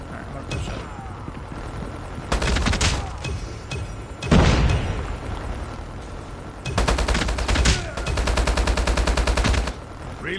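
HBRa3 assault rifle fire in Call of Duty Mobile: loud, rapid full-auto bursts in several strings, split by a heavy boom and short pauses, with faint game background sounds between bursts.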